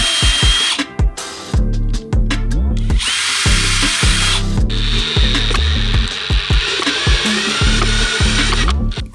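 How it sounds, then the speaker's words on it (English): Power drill boring holes through plates for a bracket, with repeated short loud whirring bursts, each starting and stopping abruptly and separated by brief pauses, close up and with no talking. "what I need to do is now mark these and drill it through the plates"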